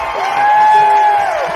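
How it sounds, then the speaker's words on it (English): A crowd at the 2025 Ice Climbing World Cup lead semifinal in Longmont, USA, cheers loudly and steadily, with whoops and whistles rising above a dense roar for the full moment. "Hype in the crowd."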